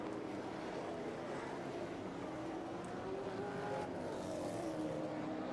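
V8 Supercars touring race cars brake hard into turn five during a 10-lap race, a steady wash of engine roar and tire noise from several cars, moderately distant and continuous throughout.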